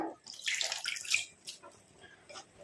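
Fresh hibiscus leaves are rinsed in water, giving close splashing and sloshing for a couple of seconds that fades to softer trickles, with no talking.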